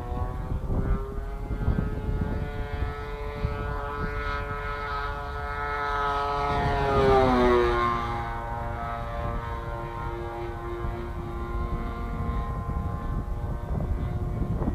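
A gas-powered Extreme Flight 74-inch Laser RC airplane flies on its maiden flight, its engine buzzing steadily. The pitch climbs and swells as the plane passes close by, then drops and carries on amid outdoor background noise, with no talk.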